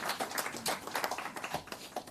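Applause at a UNICEF initiative launch event, a continuous fairly faint patter of many hands clapping from a small audience, with no talk over it.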